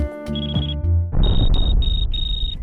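A steady high-pitched electronic beep from an avalanche transceiver checker sounds in repeated pulses, loud and close, over rumbling handling noise and a low tone at the start.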